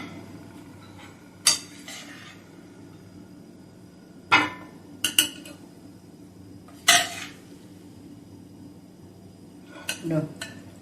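A serving spoon scoops curry from a dish, giving a handful of sharp metallic clinks against the dish, spaced a second or more apart, over a quiet room background.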